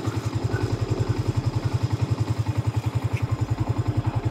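A motorcycle idles near a house with a steady, pulsing low thump at a constant rhythm. Faint background clatter sits under the engine, and no one speaks.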